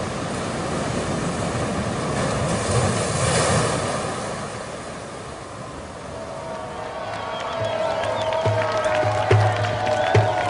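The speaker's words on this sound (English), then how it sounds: "It's pretty windy here." Strong outdoor wind roars and buffets the microphone in a steady, rushing blast that swells and eases, with faint low thumps near the end.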